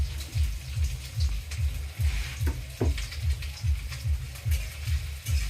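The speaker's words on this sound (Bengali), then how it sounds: "মাত্র মাছ ভাজি করতেছি" Fish frying in oil in a wok (kadai) over a strong fire, a steady close sizzle and crackle with a repeating low rhythmic thump underneath and a few louder pops.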